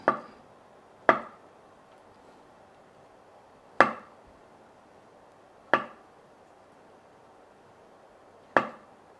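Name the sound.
knife slicing food on a cutting board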